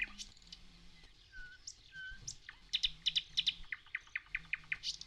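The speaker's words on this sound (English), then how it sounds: "And there nightingales would sing. Listen." Nightingales sing in English spring countryside with bluebells and heather, a faint distant chorus of varied whistles and sharp repeated chirps that builds into a rhythmic run of bright notes.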